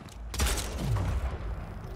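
A shotgun blast in the video game Splitgate fires as one sharp boom, followed by a descending tail of game effects, close and loud with no talk.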